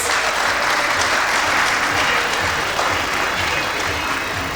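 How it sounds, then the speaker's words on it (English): An audience applauds an award presentation at a UNESCO hydrology program anniversary event, a loud, dense, steady wash of clapping throughout. "please come in, a round of applause"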